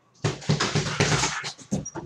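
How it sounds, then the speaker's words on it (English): A dog whimpers and yips close by in a string of short, strained whines, several quick cries in a row with brief pauses between them. "Oh, my dog is back."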